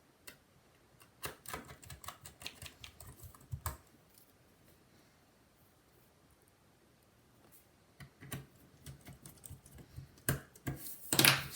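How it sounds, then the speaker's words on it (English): A screwdriver drives small screws into a 2008-2009 MacBook Air, giving quiet bursts of rapid clicking and ticking up close, with a calm pause in the middle before the clicks pick up again, with no voices. "Just going to screw in one of the screws."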